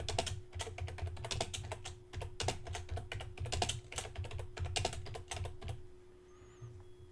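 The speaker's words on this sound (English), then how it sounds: "I'm going to go ahead and type," Fingers type on a computer keyboard in quick, irregular bursts of close, crisp clicks, with a brief pause near the end and no talking.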